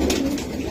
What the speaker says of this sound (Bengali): সাদা আর্মি ব্লাড লাইনের কবুতর।